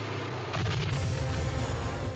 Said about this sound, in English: Roger outlasts the plane and ends up crashing into a fuel truck for a fantastic explosion.